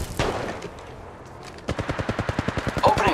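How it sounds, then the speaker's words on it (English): Automatic gunfire in the mobile battle-royale game Apex Legends Mobile, played on an iPhone 11: after a brief shot and a quiet stretch, a rapid, evenly spaced burst of loud close-range shots runs to the end. "Opening fire on the enemy."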